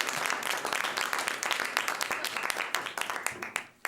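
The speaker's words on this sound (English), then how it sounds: "give him a round of applause" An audience applauds a performer on a comedy stage with dense, steady clapping. It is loud and continuous for a few seconds, mixed with some cheering voices, and fades toward the end.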